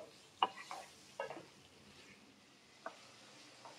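Liver for a spicy fry is stirred in a pan with a few scattered scrapes and soft sizzling, quiet and sparse, with no talking.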